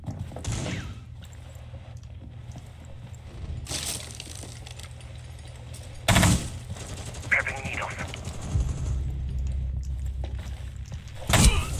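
Gunfire in Rainbow Six Siege comes as several separate sharp shots and short bursts spread across a tense firefight, with debris, crashes and faint talk in the background.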